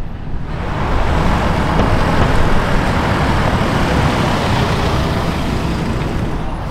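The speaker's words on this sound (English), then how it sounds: "a puro sangue and an SF90 of some kind" A Ferrari Purosangue and an SF90 supercar pass by on a road, giving a steady, loud wash of engine and tyre roar with wind, holding for several seconds and fading slightly at the end, with no talking.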